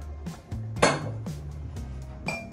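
Bowls and plates clinking and clattering as they are handled in a home kitchen while making lemon crème brûlée, with a sharp louder clink near the middle among several softer knocks.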